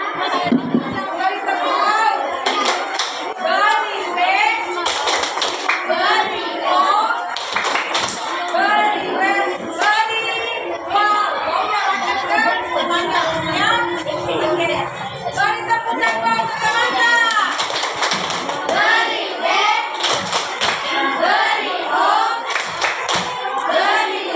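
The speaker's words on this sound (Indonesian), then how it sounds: "kita beri tepuk wow dulu ya" A classroom group performs a rhythmic clapping chant, bursts of hand claps and voices alternating in a lively pattern over continuous chatter from many people.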